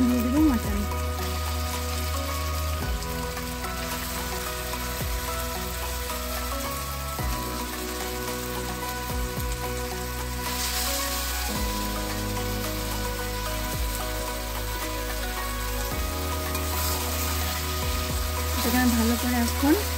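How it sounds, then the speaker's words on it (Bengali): Mutton sautés in spice masala for Bengali mutton kosha, giving a steady, close sizzle with occasional stirring scrapes throughout. "এর মধ্যে আমি দিয়ে দেবো মাটন।"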